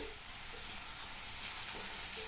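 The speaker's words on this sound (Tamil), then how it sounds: "நல்லா இந்த மாதிரி ஒரு வதக்கி விட்டுட்டு மூடி வச்சிருங்க." Tomato with onion sautéing in a pan for a brinjal masala curry, a steady broadband sizzle with soft stirring, close and even throughout, no voices.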